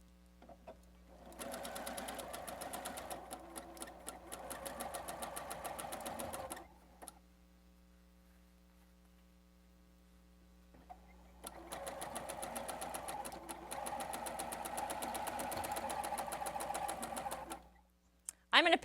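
Domestic sewing machine stitching quilt star block pieces for a star runner, two long steady runs of rapid needle chatter separated by a quiet pause, close and fairly loud with a low hum underneath.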